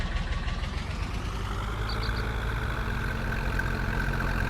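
A tractor engine from Farming Simulator 19, fitted with a plain exhaust pipe and air cleaner, runs at a steady low idle. It is a constant deep rumble heard close with no voices.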